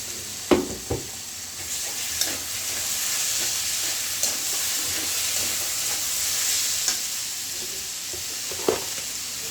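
Ginger-garlic paste sizzles steadily in a hot pan while cooking egg bhuna, a continuous frying hiss punctuated by occasional sharp spatter pops and stirring scrapes, close and fairly loud with no talking.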